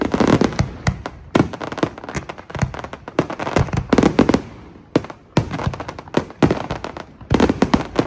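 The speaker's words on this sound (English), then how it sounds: "beautiful event, beautiful presentation, fireworks" Loud fireworks at an outdoor event on Al Reem Island in Abu Dhabi, with repeated booming bursts and crackling volleys arriving in irregular clusters, close and dominant with no talking.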